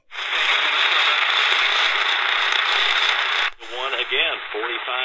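Koizumi Seiki Soundlook SAD-7214 AM Japanese import radio tuned to a distant skywave station, giving a steady loud wash of static hiss that cuts partway through to faint warbling whistles and fading heterodyne tones.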